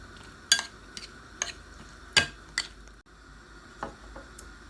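Spice mixture of salt, red chili powder and turmeric being stirred for chicken quesadilla filling, heard as a few soft, scattered scraping clicks against a quiet background, with no talking.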